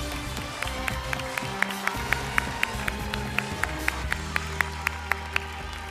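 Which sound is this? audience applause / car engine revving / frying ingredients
audience applause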